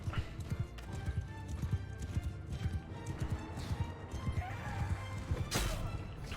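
Cavalry horses in a Game of Thrones mod battle gallop with dense, irregular clip-clop hoofbeats throughout, with an occasional neigh and a crash near the end, under battle noise.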